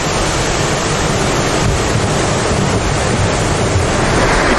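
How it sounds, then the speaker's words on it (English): Large ocean waves crash on the shore of a remote island as a storm seems to be starting, a loud, continuous roar of surf close by with no voices. "Big wave crashing, it's very big wave."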